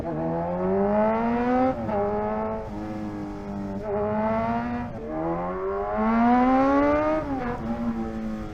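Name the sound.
Kawasaki Z1000R motorcycle accelerating on a wet road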